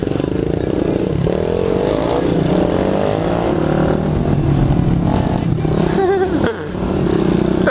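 A motorcycle riding a small circuit around the inside of a warehouse, its engine droning steadily and loud throughout with some rising and falling revs, a voice talking over it.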